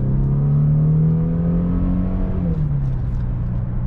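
A 2014 Mercedes-Benz E350 4MATIC sedan with 302 horsepower accelerates hard. Its engine drone rises steadily and loudly, drops once at a gear change, then climbs again, with no talking.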